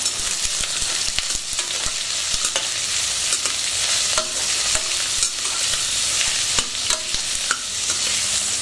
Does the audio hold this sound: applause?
no